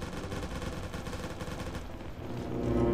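Rapid bursts of heavy gunfire from a bigger gun in a War of the Worlds video game, dense repeated shots crackling steadily close up, then easing into a rumbling tail.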